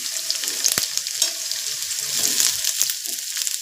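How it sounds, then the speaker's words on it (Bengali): Onions frying with potatoes in a home kitchen pan for ghugni, a continuous close sizzle with occasional stirring scrapes and a sharp knock, moderately loud and without voices. "তারপর পেঁয়াজগুলো দিয়ে দিলাম"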